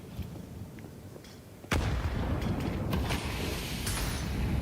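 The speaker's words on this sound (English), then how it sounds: "is that a flashbang?" A flashbang grenade goes off in a Counter-Strike match, a sudden loud burst about midway, followed by a sustained bright ringing hiss and scattered game sounds.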